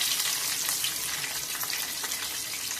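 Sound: frying green chillies in tempering oil

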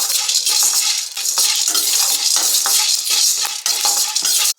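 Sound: frying fennel seeds and spices on low flame

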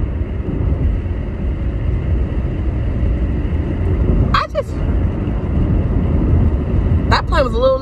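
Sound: airplane flying low overhead

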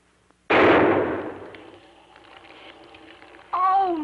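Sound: gunshot fired into a wall

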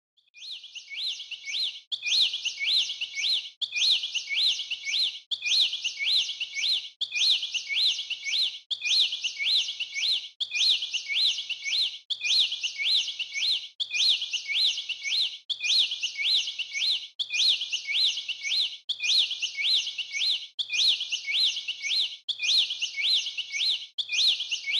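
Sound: sparrows chirping near a nest

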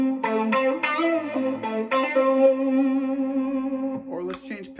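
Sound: electric guitar played through distortion effect

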